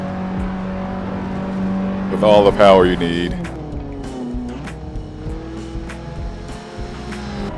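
A 9th-generation Honda Civic Si coupe in Assetto Corsa, engine droning steadily, then revving hard with a brief tire squeal before settling back to a steady hum while someone talks over it.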